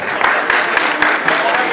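Audience clapping in a hall, a brief burst of applause with a few rhythmic claps standing out near the microphone, and voices mixed in underneath.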